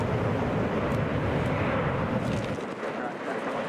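A Delta Airlines Boeing 737 roars at Hartsfield-Jackson Atlanta airport, a loud, continuous broadband jet rumble that fades slightly toward the end.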